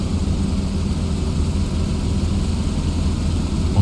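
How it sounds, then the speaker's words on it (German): A video game airplane's engine drones steadily and loudly, a dense low rumble with a constant roar that holds unchanged throughout, with no voices. "So klingt euer Flugzeug."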